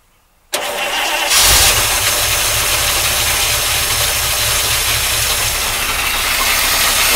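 A 1953 Oldsmobile Rocket Super 88 barn find, carburetor freshly primed, cranks briefly and then fires, settling into a loud, steady rough idle with a pulsing low rumble that continues to the end.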